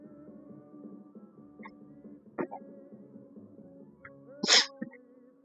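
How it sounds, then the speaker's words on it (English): A single loud sneeze bursts out near the end, close and sharp, over a low steady background hum from a cold outdoor setting near manholes and pipes, with a few faint clicks earlier. "I had to sneeze"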